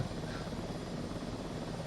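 Helicopter holding a steady hover in Microsoft Flight Simulator 2024 over Olympic Lakes, a dense continuous rotor and engine roar, loud and unbroken.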